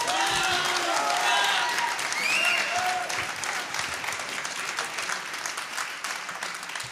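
Audience applause at an acoustic music session, a steady crowd clapping with a few cheers and whistles, gradually thinning out over about seven seconds.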